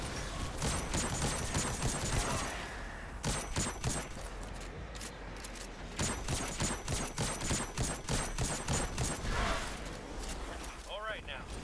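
Rapid gunfire in Destiny 2 shooting at spawned crystals, dense bursts of loud shots repeated in quick volleys with short pauses between them, under a voice talking.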